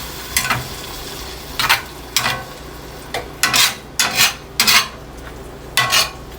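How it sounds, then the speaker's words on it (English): A spoon scraping the bottom of a pot of food cooking on the stove, nine or so short rasping strokes in uneven rhythm, close and fairly loud over a low steady hum. "I apologize for the scraping sound"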